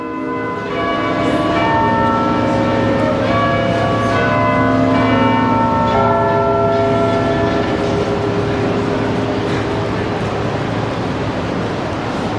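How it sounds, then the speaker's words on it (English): Bells of the clock tower above the Sydney GPO ring out over the city at sunset, a series of loud, resonant struck tones with long sustained overlapping decay, under a steady wash of urban background noise. "There goes the clock chiming above the GPO."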